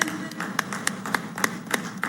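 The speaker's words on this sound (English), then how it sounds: "A huge round of applause, ladies and gentlemen." Scattered applause at the Google Cloud India AI Hub groundbreaking ceremony in Visakhapatnam, a thin group of claps with a few sharp, distinct hand strikes standing out over a low background murmur.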